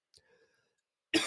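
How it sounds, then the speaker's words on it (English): A single sharp cough from a man, close and loud, after a brief soft throat sound in an otherwise quiet room. "I knew I wouldn't be able to get through this without coughing a little bit"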